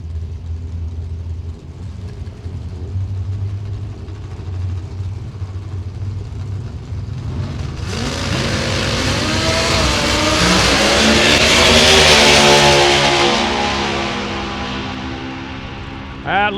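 A little four-cylinder drag racing car at Gainesville Raceway launches and screams down the strip, its engine building from a low idle into a loud, rising roar that peaks and then fades away as the car passes into the distance.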